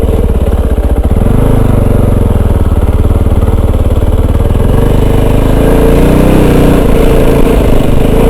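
Kove 450 Rally motorcycle engine pulling up a hill climb, a loud, close, steady single-cylinder drone whose pitch rises and falls gently under load, with no one talking.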